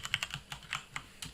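Quick, light keystrokes on a computer keyboard, about eight close taps in an uneven rhythm over a quiet room, with no voices.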